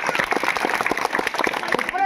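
An audience at a village magic show claps in quick, steady beats, with someone speaking loudly over the applause throughout.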